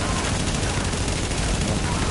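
Dense, continuous gunfire from the video game The Division, with rapid overlapping shots forming a loud, unbroken barrage for about two seconds.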